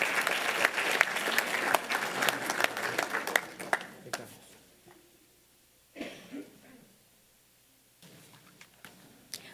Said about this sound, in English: give a big round of applause to our pledge leader this evening